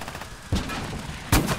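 Two heavy thumping mortar shots in the video game Gates of Hell, about 0.8 seconds apart, each a sharp low boom over steady background battle noise.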